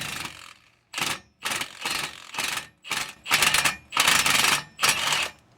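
Ratcheting wrench loosening a bolt on a 2004 Toyota Tundra during catalytic converter replacement, heard as repeated bursts of rapid clicking, each lasting about half a second, close and loud with short pauses between.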